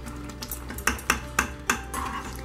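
A spoon scraping and knocking against a pot while sweet pongal is stirred, a run of sharp clinks and taps, several louder knocks near the middle, close and fairly quiet against a low background hum.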